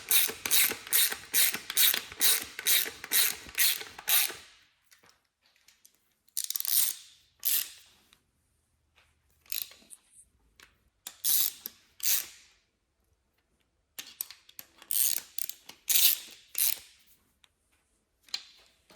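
A ratchet tightens alternator bolts on a 3800 engine being swapped into a Pontiac Fiero, with a fast run of close, sharp clicks followed by shorter separated bursts of ratcheting and pauses between them.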